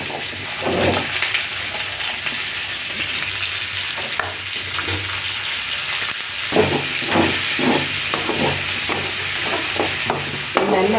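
Potatoes and drumsticks sauté in a pan with a steady hissing sizzle broken by repeated rhythmic stirring scrapes, louder and more regular in the second half. No one speaks.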